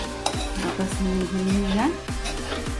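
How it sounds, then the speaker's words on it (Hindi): Poha being gently mixed with spices in a pan over a low flame, with soft scraping and light sizzling under continuous talk and some clinking. "बहुत हल्के हाथ से इसको मिक्स करेंगे"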